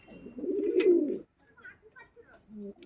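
Cooing from a Pakistani high-flying red-tailed pigeon, a close, low, throaty burble lasting about a second, followed by softer, scattered coos and faint bird sounds.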